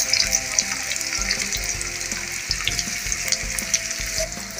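Crushed garlic sizzles steadily in hot oil, the first step of a cowpea-leaf bhaji before onion goes in, with a continuous close frying crackle and no voices.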